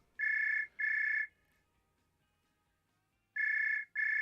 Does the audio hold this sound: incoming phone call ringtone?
yes